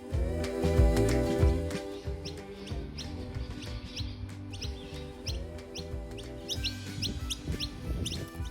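Baby birds chirping in a front yard as parent birds feed them, with repeated high peeping calls and clucking-like notes over steady outdoor background noise.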